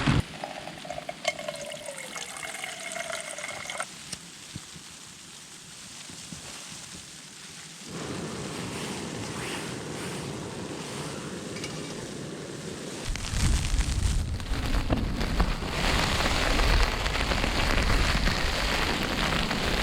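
Hail or icy precipitation pelting a tent in a winter snowstorm in Glen Coe's Lost Valley, a dense steady patter that grows louder and heavier toward the end, with a shifting rustle earlier and no talking.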